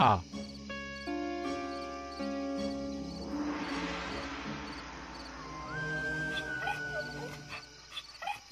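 A hungry mother dog whimpers with her puppies, thin high whines rising and falling close by over a steady background of music, with people talking nearby.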